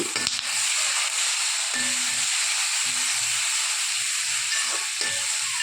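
Tomatoes hit a hot frying pan in a home kitchen, raising a steady, fairly loud sizzle and hiss that runs unbroken throughout, with occasional light clinks and stirring noises beneath.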